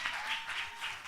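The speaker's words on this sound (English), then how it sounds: "Everybody clap, clap, clap. Just clap." An audience at a business and career expo claps in a soft, distant patter that swells and fades in rough waves.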